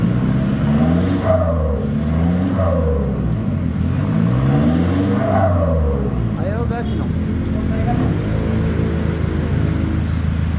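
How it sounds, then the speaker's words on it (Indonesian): A turbo diesel engine with a VNT turbo revs up and down repeatedly, each rise carrying a rising turbo whistling whine, loud and close, with a brief high chirp midway. "Piu-piunya, Jos. Gasin, Jos."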